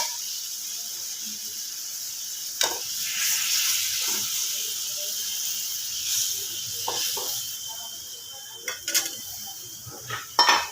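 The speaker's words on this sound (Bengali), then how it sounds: "এবার এর মধ্যে দিয়ে দেব ভেজে রাখা বোয়াল মাছ" Fried boal fish goes into a curry simmering in a pan, under a steady close sizzling hiss with a few soft clunks and scrapes of the pan.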